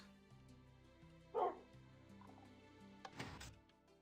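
A dog barks once in a video game, one sharp yelp in the middle over a steady game music bed, with a second rougher burst of noise near the end.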